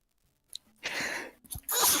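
A single close sneeze follows a quick breathy intake, ending in a loud forceful burst of air in an otherwise quiet room.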